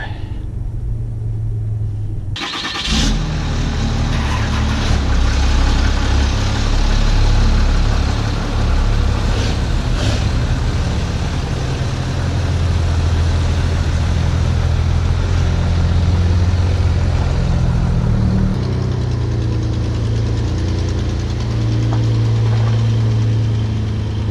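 Dodge Ram diesel trucks idle with a deep, steady low rumble after a cold start, the engine note wavering as the trucks are moved around, fairly close and loud, with no speech.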